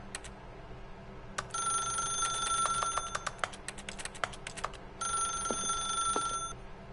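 An old-style telephone bell rings in the video game The Stanley Parable, sounding in two bright, rattling bursts of about a second and a half each, separated by a short pause, clear and close over a faint low background hum.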